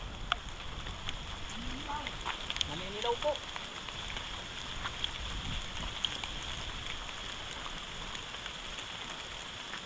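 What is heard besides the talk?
rain falling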